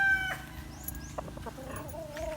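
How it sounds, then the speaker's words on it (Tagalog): A brood hen of fighting-cock breeding stock clucking on a farm, a few short throaty clucks over a low background hum, moderately close, with no talking. "Ito po yung unang nating isasalang na budkak."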